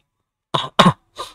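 Three short, dry coughs from a person with a cold, in quick succession, close to the microphone, following a moment of silence.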